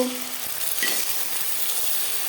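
Beaten egg mixed with onion poured into hot refined oil, a sudden sizzle at the start that settles into a steady, even frying hiss with no talking.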